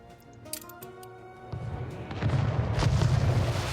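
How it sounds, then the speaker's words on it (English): Cannon fire in the video game Anno 1800 rolls in as a dull, distant rumble after a short stretch of tonal game music, swelling into continuous low booms. "Am I hearing cannon fire?"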